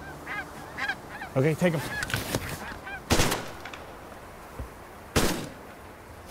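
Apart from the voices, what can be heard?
snow geese honking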